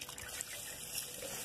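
Water splashes and trickles steadily while a puppy is bathed with soap, a close, continuous pouring sound with no voices.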